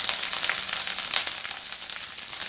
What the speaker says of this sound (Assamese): সেই একেটা কেৰাহীতে মই এতিয়া পাঁচফোৰণ দি দিছোঁ তেলত। পিঁয়াজখিনি দি লৈছোঁ।